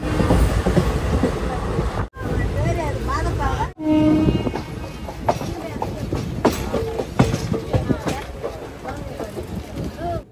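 Train noise at an Indian railway station on the Vijayawada to Donakonda route, with rolling rumble, a horn-like tone and clatter heard up close under people talking, broken by two brief gaps.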